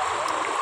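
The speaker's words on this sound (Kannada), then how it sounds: "ಇಲ್ಲೇ ಹೀಗೆ ಹೊಳೆ ಅಂತ ಆಗಿದೆ" Floodwater rushes over a concrete road on the APMC road in Puttur like a river, a brief, steady, close rushing wash with no voices.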